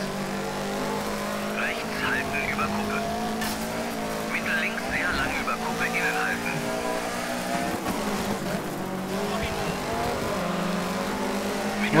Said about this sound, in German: Der Wagen klingt scheiße.